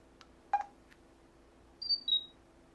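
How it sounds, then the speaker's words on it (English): A soft click followed by a brief two-part electronic chirp from a Pantech Pocket phone camera shutter, in an otherwise quiet room. "Kind of a unique shutter sound there"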